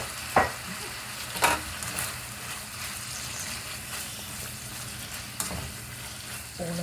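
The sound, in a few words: cabbage, bacon and onion frying in a pan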